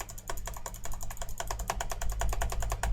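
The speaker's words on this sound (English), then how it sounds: "Can you hear the mouse?" Rapid clicking from a computer mouse, close and dense, a fast irregular run of sharp taps over a low background hum with no speech.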